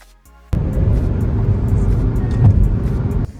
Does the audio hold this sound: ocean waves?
no